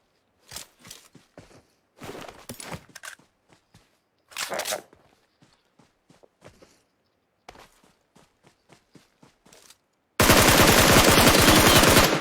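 Gunfire in the mobile game PUBG Mobile: scattered single shots and short bursts with quiet gaps, then a loud sustained rapid automatic burst to the end, close and dominant.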